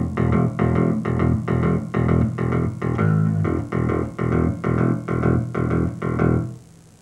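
Bass guitar picked with a plectrum in a driving, boogie-style rhythm of steady, evenly spaced hard notes, loud and close, played alone before a short fade at the end.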